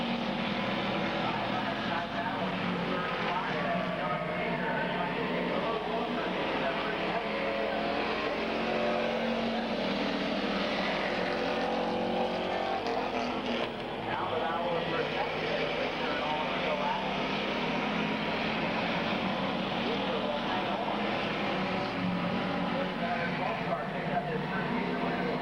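Stock cars race around Midvale Speedway, a continuous loud roar of engines at close range that barely varies, with speech running underneath throughout.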